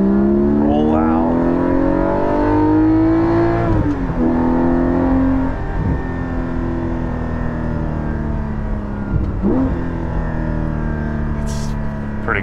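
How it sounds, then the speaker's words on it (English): Porsche 718 GT4 fitted with a Soul Performance rear exhaust section, engine revving up and down through gears from inside the car, a loud, continuous droning roar with sweeping pitch rises and drops, heard with voices speaking over it. "If you had any apprehensions about a GT4 or a 718 GT4 sounding good, you shouldn't have any, because it's a good sounding car."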